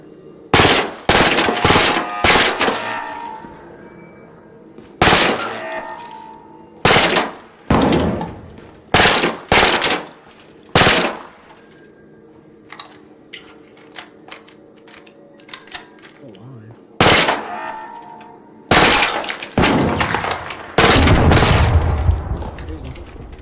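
Sniper turret in the Arc Raiders video game firing repeated sharp, loud single shots in irregular bursts, some closely spaced and some after long pauses, with a faint hum between shots.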